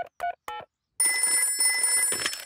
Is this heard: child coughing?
no